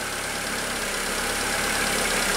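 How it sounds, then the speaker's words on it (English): A small car engine idles steadily while turning the alternator to charge the battery, a continuous close-up rumble with an even drone and no speech. "Hope this little engine can keep the alternator spinning, right?"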